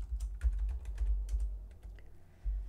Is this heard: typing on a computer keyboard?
yes